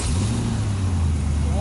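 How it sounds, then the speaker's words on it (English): A car engine turns over and settles into a steady low idle, close and fairly loud, brief and alone without talk. "you're gonna wanna start the car"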